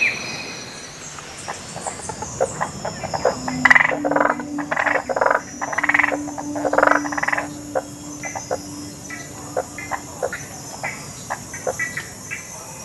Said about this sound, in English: At night, the songs of the forest and the marsh come largely from the male frogs as they serenade the females.